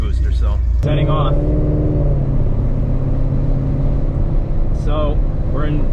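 A 700hp Ford Mustang with a Corsa sport exhaust, long-tube headers and an upgraded fuel pump pulls away in normal drive mode, its deep exhaust droning loudly and steadily, with a voice talking briefly over it.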